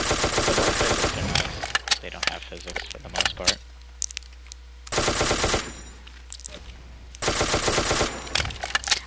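Rapid bursts of automatic gunfire ring out in the Ace of Spades video game, loud clattering volleys separated by quieter gaps with scattered single shots, while players talk over the action.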